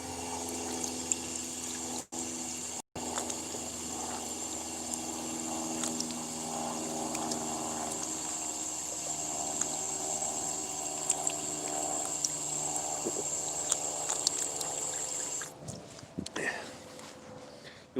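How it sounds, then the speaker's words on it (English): Water runs steadily from a drinking fountain, a continuous hiss with a faint pump-like hum beneath and a few brief interruptions, then it cuts off near the end. "You let water run for a few seconds at a water fountain"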